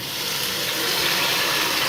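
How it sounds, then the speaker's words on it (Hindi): Water streams steadily into a pot of potato and lobia curry, a continuous close rushing pour with no pauses or talk. "तो इसी हिसाब से मैं इसमें थोड़ा सा ज़्यादा पानी डालूंगी।"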